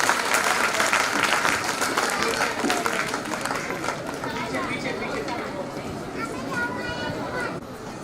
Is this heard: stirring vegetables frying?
no